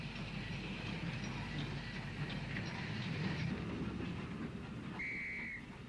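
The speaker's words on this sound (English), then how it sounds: "Mogul number 104 hauls a couple of wagons containing ballast past Central Junction in Belfast" GNR Mogul steam locomotive No. 104 rumbles past Central Junction in Belfast hauling a couple of ballast wagons, a continuous rolling clatter with a brief whistle note near the end.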